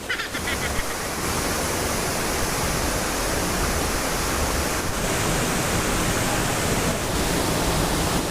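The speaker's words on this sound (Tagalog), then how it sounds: "palakas ang tubig ng waterfalls na ito" A strong waterfall in a stream roars continuously as loud, dense white-noise rushing water, steady and close for the whole stretch with no speech.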